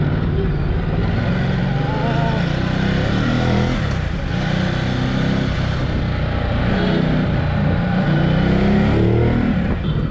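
A Ducati motorcycle in sport mode accelerating hard in traffic, its loud close engine roaring and revving with rising and falling pitch throughout the ten seconds.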